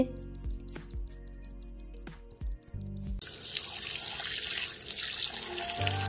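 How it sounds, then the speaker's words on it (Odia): Water is poured over a child's head in an animated Odia moral story about a mother bird and her chick. Bright chirps and musical tones give way to a steady, loud, close rush of pouring water that runs to the end. "ଆହୁରି ପାଣି ମୋ ମୁଣ୍ଡରେ ଢାଳ"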